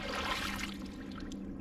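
A stone found on a beach in Fiji is rinsed under running water, with a steady close splashing and trickling wash that continues without a break.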